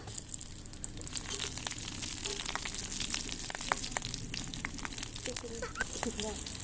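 Panch phoron spices crackle and sizzle in hot oil during Bengali village cooking, a steady frying hiss with scattered sharp pops, close and moderately quiet, with voices talking over it.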